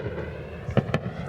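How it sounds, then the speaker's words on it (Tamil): Swiss National Day fireworks launched from two large ships, heard from a distance as two sharp booming bursts in quick succession over a low steady background rumble. "அந்த போன 2 பெரிய கப்பலை தான் வெடிச்சு கொண்டிருக்காங்க"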